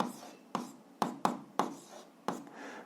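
Pen strokes on paper during an algebra exercise, a series of six short sharp scratching taps at irregular intervals over a faint background hiss, close and fairly quiet.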